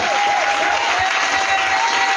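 A church congregation bursts into loud, continuous applause acclaiming Jesus, a dense wash of clapping from a crowd that fills the whole moment without pause.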